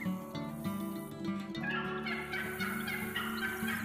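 Wild turkeys in the video game theHunter: Call of the Wild call in a steady chorus of clucks and yelps, close and fairly loud, over a constant background hum, with no talking.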